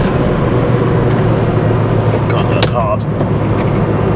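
An old Mini Cooper engine driving hard after a gear change: a steady, loud, continuous drone with road noise, with someone talking over it.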